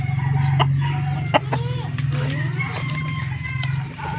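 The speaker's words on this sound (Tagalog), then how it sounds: "dito naman tayo sa ating mga tandang" Roosters clucking during early morning feeding, close and continuous, with someone talking over the birds and a low steady hum underneath.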